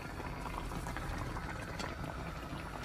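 Tteokbokki sauce boiling in a pan, a dense continuous bubbling roar that stays steady and close throughout with no talking.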